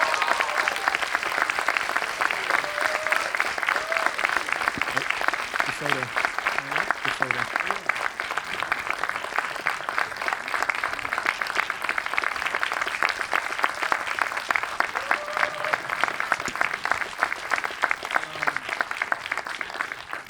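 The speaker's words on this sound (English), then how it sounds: "let's give a hearty round of applause to the man of the hour" A large audience at the Zurich Film Festival's ZFF Masters 2024 applauds Sebastian Stan's entrance with sustained, steady clapping that stays full and even for about twenty seconds.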